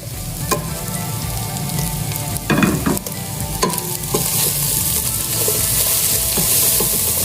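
Finely chopped small carrots and two medium bell peppers frying in a pan, a steady loud sizzle broken by several sharp spatula scrapes and stirs, growing hissier toward the end, with no talking.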